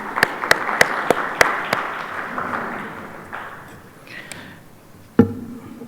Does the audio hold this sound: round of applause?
yes